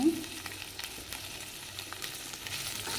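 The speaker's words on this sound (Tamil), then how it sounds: "உப்பு சேர்த்து கோவக்காயை நல்லா வதக்கிக்கலாங்க" Ivy gourd frying with salt in a pan gives a soft, steady sizzle with faint scraping stirs at intervals, low and continuous throughout with no voices.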